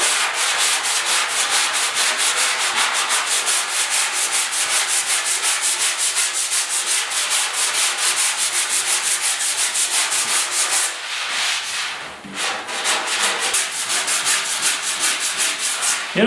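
Steady sanding of primer on the fender of a 1956 Ford pickup, a continuous close scratchy rubbing with fast back-and-forth strokes and a brief pause near the end before it resumes.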